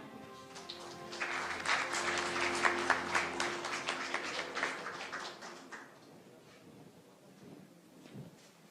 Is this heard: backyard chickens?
no